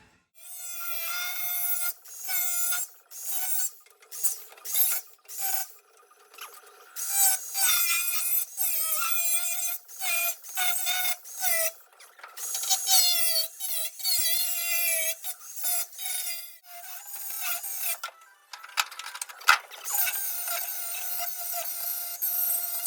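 A section of a Ford Escort Mk2 floor is being cut out next to the chassis leg with a power tool, giving bursts of high, scraping, whining metal cutting separated by short pauses, loud and close, with no talking.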